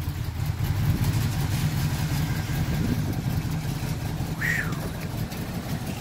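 A classic car's engine idling outdoors in a steady, rough, close rumble, with a brief higher whine partway through.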